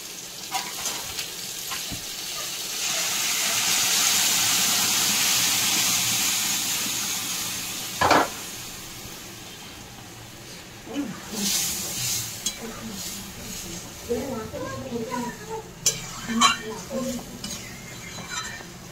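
Moong dal goes into a pan of fried pointed gourd, giving a steady close sizzle and hiss that swells then fades, followed by scattered stirring clinks and scrapes of a utensil against the pan.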